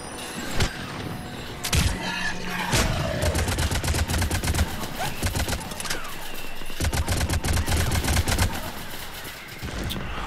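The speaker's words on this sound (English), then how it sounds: "Rubbish shooting." Rapid bursts of gunfire from the Mass Effect 3 online multiplayer on Xbox 360 crackle loud and close, with a steady rattle of automatic fire in several long stretches broken by short pauses.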